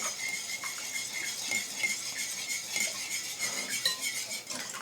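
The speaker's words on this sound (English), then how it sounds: "We've got 2 eggs. We're going to whisk all this together." Eggs and other ingredients for baked oatmeal being whisked in a bowl, a steady close scraping and clinking of metal against the bowl with no talking.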